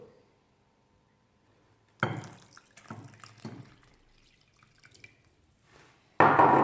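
Water is poured into a bowl of flour and salt for pelmeni dough, giving a few close splashy pours and drips separated by quiet gaps, with a louder pour at the end.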